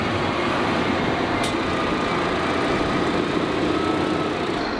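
Car engine kept idling in extreme cold to stop the oil freezing, a steady, continuous low rumble with a constant hiss throughout, heard alone without talk.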